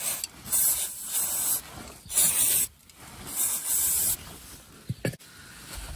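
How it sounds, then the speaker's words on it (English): Brake cleaner sprays from an aerosol can onto a 2023 Mazda CX-30 SkyActiv-X during a full service, in three loud hissing bursts of about a second each, close to the mic, with a brief clunk near the end. "Apply some brake cleaner."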